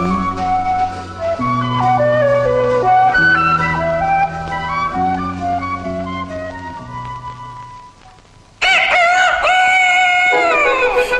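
A loud, stretched-out rooster crow suddenly bursts in near the end, following a stretch of stepping, tuneful background music, in an animated cartoon with hens foraging in grass.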